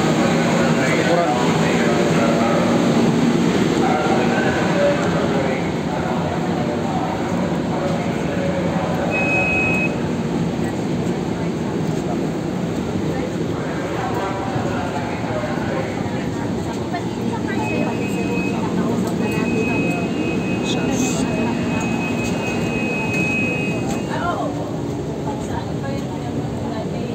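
Inside a moving train, a steady rumble and hum of the carriage fills the background while people talk over it, with a few faint electronic beeps along the way.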